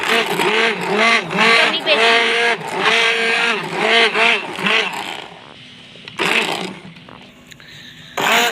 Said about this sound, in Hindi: ग्राइंड कर लिया, ये देख अभी और ग्राइंड कर रहे हैं